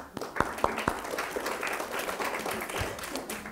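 An audience at a high school comparative literary criticism competition final claps softly, a few sharp distinct claps standing out early before settling into a faint, scattered patter.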